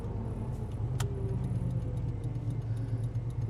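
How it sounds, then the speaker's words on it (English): A worn truck's turn signal hyperblinks with rapid, faint ticking clicks over the low, steady rumble of the idling engine. "We got a hyperblink going on with the turn signal"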